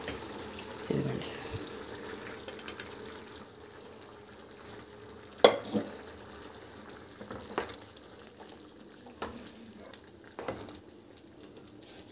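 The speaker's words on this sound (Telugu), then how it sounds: "మనం పప్పు కూడా వేసుకున్న తర్వాత ఒకసారి నిదానంగా కలిపేసుకుందాం." Dal (lentils) being stirred into a frying curry in a pan, with a steady soft sizzle under occasional clinks and scrapes of a spoon against the vessel, close by; a few faint voice sounds appear.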